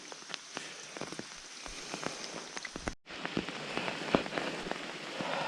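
Steady night-long rain falling on a forest, a dense patter of drops with scattered louder splats close by, continuous throughout with a brief dip partway.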